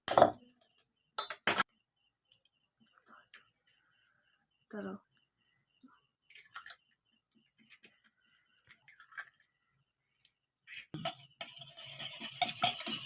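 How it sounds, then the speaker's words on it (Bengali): Eggs are beaten in a bowl for a homemade birthday cake batter: scattered light clinks and taps, a brief stretch of talk, then a steady, close scraping whisk for the last couple of seconds. "এবার ফাটা চলছে ডিম।"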